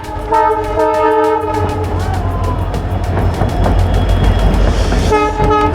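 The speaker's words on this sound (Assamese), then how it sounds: "ট্ৰেইন যোৱালৈকে ৰখি দিছোঁ" A train rumbles past close by, loud and continuous, with sustained horn blasts at the start and again near the end while a rider waits at the roadside.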